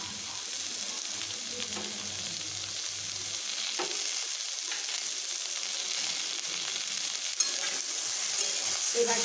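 Onions and vegetables sizzling in a pan for a small river fish recipe, a steady hiss of frying with scattered soft scrapes and clicks of stirring, close and moderately loud.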